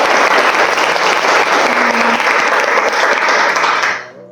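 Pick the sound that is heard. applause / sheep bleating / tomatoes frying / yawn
applause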